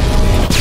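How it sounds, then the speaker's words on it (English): A loud, booming frag grenade blast rumbles through a Call of Duty: Modern Warfare firing range, deep and dense for the whole moment, with a brief break before the rumble resumes. "Toss the grenade down the range to take out several targets at once"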